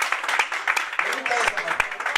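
A church congregation claps for a short stretch: scattered, uneven hand claps, fairly close, mixed under someone speaking Spanish.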